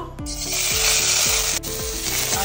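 Chopped onion hits hot oil in a pan for Goan clam sukha, giving a loud, steady, close sizzle with a few scraping stirs, and no voices.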